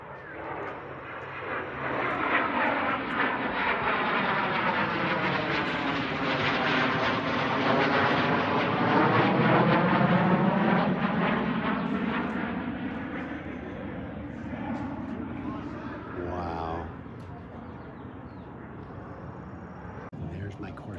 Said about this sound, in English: Here comes the Messerschmitt.